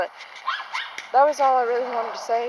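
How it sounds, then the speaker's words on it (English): A dog on a porch barks and yelps repeatedly, loud and fairly close, with several sharp whining barks following a person talking at the start. "I'm sorry if you guys can hear my dog freaking barking"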